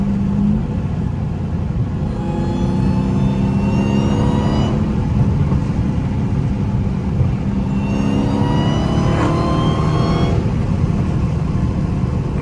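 Supercharged Dodge Hellcat under way, its engine droning loudly while a high supercharger whine rises in pitch through two strong accelerations, each cut off as the car shifts, with steady road rumble underneath throughout.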